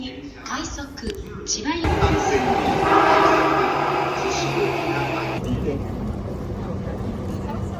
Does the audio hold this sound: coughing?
no